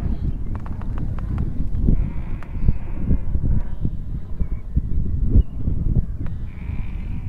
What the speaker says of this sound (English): So that just stands alone on the hillside with the crying sheep in the background, if you can hear them.